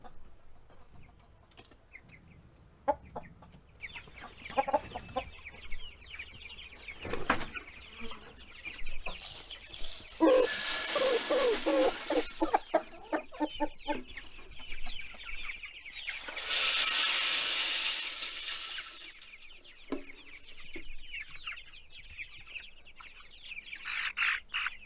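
Three-week-old chicks cluck and peep close by in a continuous, busy chorus, with louder bursts of clucking swelling and fading over half a minute; no talking.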